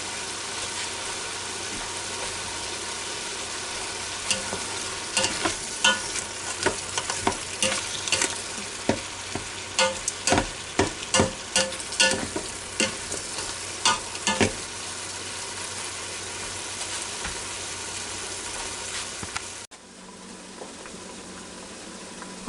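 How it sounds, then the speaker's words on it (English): Mushrooms and ground beef sizzle and crackle steadily in a hot pan, with bursts of spattering and stirring scrapes, then the sizzle quiets near the end. "Okay, now this is sizzling right away."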